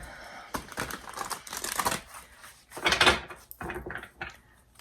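Close, papery riffling and tapping of tarot cards being shuffled in several quick bursts, with soft knocks between them.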